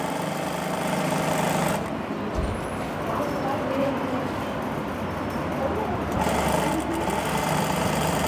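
Sewing machine running steadily through heavy beaded work, a continuous mechanical whir with a brief pause near the middle, close and fairly loud.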